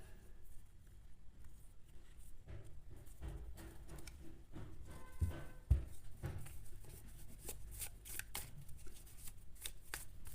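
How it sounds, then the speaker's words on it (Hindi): A tarot card deck is shuffled close by, soft repeated riffling and papery slaps in quiet bursts, with a couple of sharper taps along the way. "अब निकालते हैं हम टैरो से डेक।"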